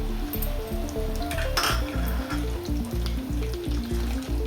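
Almonds, cashews and raisins frying in a pan, a steady sizzle with occasional clinks of a spoon against metal and a faint rhythmic hum beneath, close and continuous with no talking.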